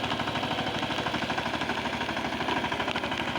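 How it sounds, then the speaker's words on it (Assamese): A tractor ploughing a rice field runs with a steady, throbbing engine drone, close and fairly loud, its rapid rhythmic pulsing continuing unbroken throughout. "দাদাই কৰি আছে ট্ৰেক্টৰ দি হাল"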